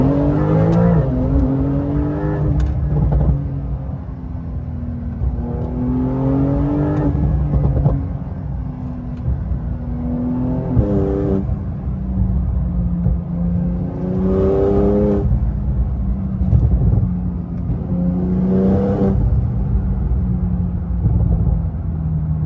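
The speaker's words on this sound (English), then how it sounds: "I'm not gonna do too much talking so you guys could experience the sounds." Modified Porsche 992 Turbo S being driven, its engine rumbling and rising repeatedly through gears under acceleration, with engine pitch climbing and dropping in waves, heard from inside without talk.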